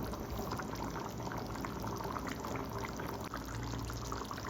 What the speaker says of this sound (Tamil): நல்லா கொதிக்க விடுவோம் இந்த குழம்ப.